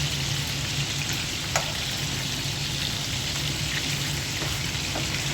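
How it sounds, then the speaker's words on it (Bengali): Tikia patties frying in hot oil, a steady close hiss and crackle with a few small pops, continuous throughout with no talk. "টিকিয়া ভাজা হয়ে গেছে,"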